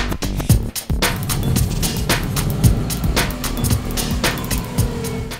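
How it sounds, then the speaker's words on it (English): A white Subaru RS wagon on the move, its engine and road noise a steady, fairly loud drone broken by regular thumps and knocks, with no voices. "So that's the last drive ever of the white Subaru RS"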